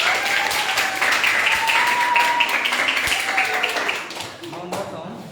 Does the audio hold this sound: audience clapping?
yes